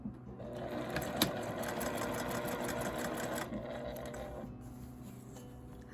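A sewing machine with a removable arm runs steadily, stitching fabric for a drawstring bag. The mechanical whir and needle clatter stay close and continuous, pausing briefly near the end.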